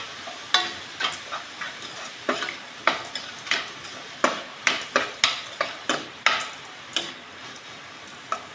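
Sliced onion sautés with salt in a pan for bonda filling: a soft sizzle under a regular series of close spatula scrapes and taps, roughly one each half-second, with no talking.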